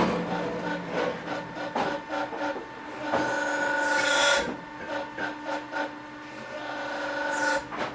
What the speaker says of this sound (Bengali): পুরো হাইড্রোলিক মেশিন, এখন ফুল হাইড্রোলিক সিস্টেমের মাধ্যমে কিন্তু ব্লকগুলো তৈরি হবে।